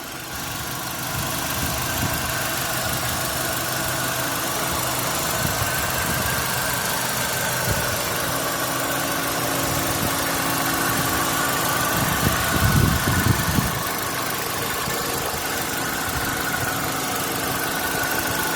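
A Hyundai Avante HD gasoline engine with manual transmission idles steadily up close with the hood open, a smooth low hum with slight vibration and a brief rougher rumble partway through.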